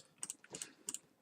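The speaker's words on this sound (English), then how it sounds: "I have a really fucking loud mechanical keyboard" A loud mechanical computer keyboard clacks in quick clusters of keystrokes, heard faintly at a distance with no talking.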